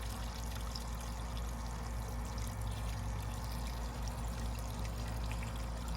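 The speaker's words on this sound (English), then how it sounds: "So now it's just gonna drain completely slowly." A Universal Rundle Colburn urinal slowly draining after a flush, a steady, continuous gurgling pour of water with a low rumble, close and unchanging throughout.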